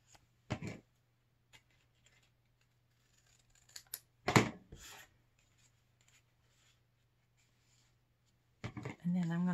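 Scissors snipping paper while making a fingernail file holder, a few short close snips and rustles separated by quiet pauses, with a voice speaking at the end.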